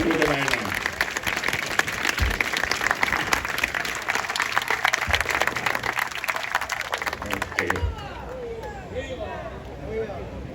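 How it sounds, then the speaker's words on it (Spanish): An audience applauds at a 62nd anniversary celebration of the Cuban Revolution in Managua, with dense, steady clapping for most of the clip that thins out near the end, and voices heard underneath. "Un aplauso para Cuba y para estos compañeros médicos de la ELAM"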